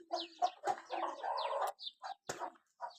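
Several chickens cluck close by in short, repeated bursts with brief pauses between them; no voices.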